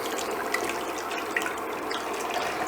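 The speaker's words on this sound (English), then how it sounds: "I'm gonna pour my milk." Homemade oat milk pours steadily into a pan on an induction hob, a continuous soft liquid splashing and trickling close by with a few small splashy peaks and no talking.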